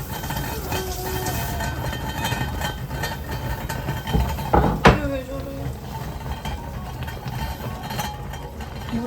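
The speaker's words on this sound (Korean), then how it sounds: "냄비가 요란한 소리를 내며 펩을 부르고 있다." A pot hisses and rattles steadily on the stove in a home kitchen in Seoul, with a sharp metallic clank partway through; a faint voice is audible underneath.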